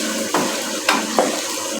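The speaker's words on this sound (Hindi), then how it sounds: "इस तरह चमचे से फेर फेर के पानी को खुश्क कर लेना है।" A spoon stirs chicken karahi in a pan while its released water cooks off, with a continuous close sizzle and three distinct scraping strokes at an uneven rhythm.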